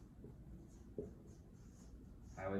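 A marker or pen scratches across a board in short strokes, soft and steady against faint room hiss, with a slightly louder scrape toward the end and no talking.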